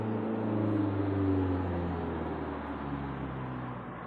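Steady traffic roar from a highway outside a home, a continuous broad rumble with low droning tones that swell and fade slightly as vehicles pass, no voices.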